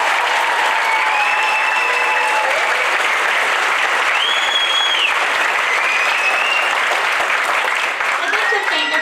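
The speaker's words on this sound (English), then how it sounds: "Can we give them another round of applause?" Loud, dense applause from the audience after a school chorus and band performance, continuous clapping throughout with whistles and cheers rising over it.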